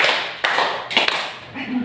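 Hands clapping in a counted classroom rhythm, a few sharp claps spaced apart over a steady room murmur.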